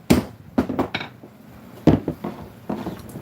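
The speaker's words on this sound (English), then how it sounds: "That's a hammer right there." A hammer strikes several times at an uneven pace, sharp knocking impacts with brief ringing, close by and fairly loud.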